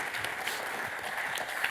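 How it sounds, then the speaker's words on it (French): An audience claps at a football awards ceremony in Alsace, with steady applause of moderate loudness throughout a short stretch. "On peut l'applaudir parce qu'il est allé chez Coiffeur Exprès aujourd'hui."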